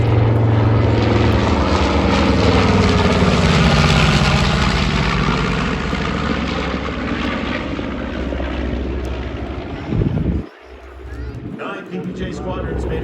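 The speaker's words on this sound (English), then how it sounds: "Look for that nose as Beth brings the airplane across from the left." A North American PBJ bomber, a twin-engine World War II aircraft, flies past at an airshow with a loud, droning propeller engine roar that swells and fades. A commentator speaks over it, and wind buffeting is heard near the end.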